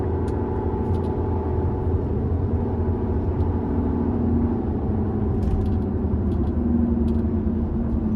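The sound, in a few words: road noise inside an old moving car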